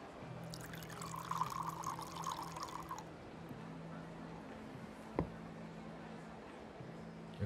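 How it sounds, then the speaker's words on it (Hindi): Hot water pouring in the Yakuza 0 video game, a steady trickling stream for about three seconds that stops, followed by a single soft drip or tap over a low background hum. "गरम पानी डाल दिया क्या?"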